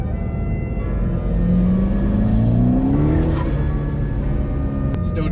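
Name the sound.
car accelerating in second gear on new Michelin PS4S tyres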